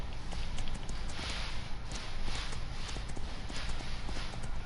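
Horse hooves clip-clopping at a steady walking pace in Farming Simulator, close and continuous over a low rumbling ambient bed.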